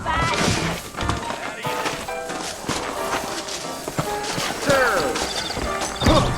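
Horse hooves clip-clopping in Red Dead Redemption, light irregular hoof steps under game ambience with character voices talking.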